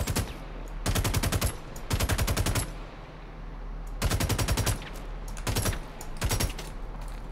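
Automatic gunfire in Star Citizen rattles out in several loud, close bursts of rapid shots, separated by short gaps over a low steady hum.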